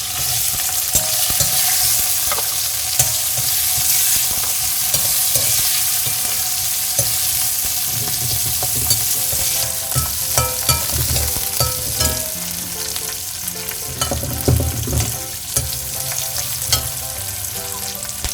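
Small shallots frying in a pan with a green chilli while being stirred, a loud, continuous crackling sizzle with repeated spoon scrapes and knocks throughout, close and unaccompanied by talk.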